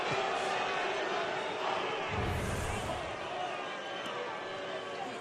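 Baseball stadium crowd at a Reds versus Athletics game roars steadily, a dense wash of cheering with a brief louder swell near the middle, while a commentator talks over it.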